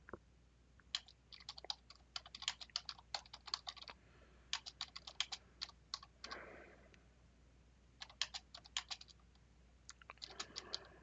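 Fingers type on a computer keyboard in quick bursts of crisp, close key clicks separated by short pauses, in an otherwise quiet room.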